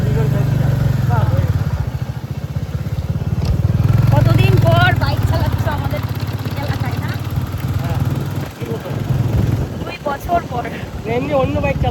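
A motorcycle engine hums steadily under wind buffeting as it is ridden, heard up close beneath two people chatting throughout.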